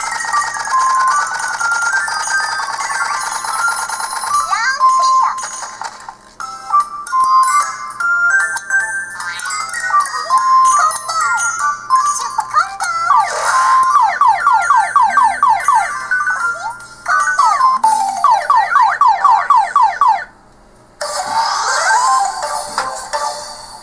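Bright electronic sound effects from Bricks Breaker, an Android brick-breaker arcade game: a busy stream of chimes, sweeping tones and rapid rising blips over background music, loud and continuous with a short dropout near the end.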